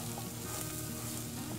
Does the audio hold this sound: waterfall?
no